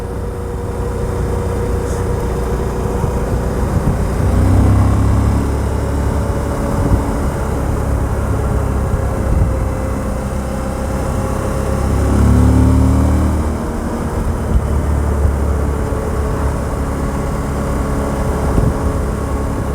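Suzuki V-Strom 1000 motorcycle with a neutral-map throttle modification, its engine droning steadily and swelling through two smooth accelerations, heard up close with wind rush and no talking.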